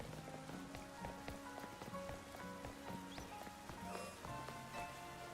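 Rainfall in Pokemon Legends: Z-A, a close, steady pattering with scattered droplet taps, layered under looping in-game music notes throughout.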